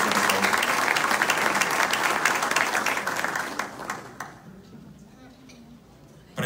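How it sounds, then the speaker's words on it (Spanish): Audience at a security summit bursts into loud, dense applause that holds for several seconds, then thins out and fades to a quiet room with scattered claps. "Fuerte aplauso, por favor"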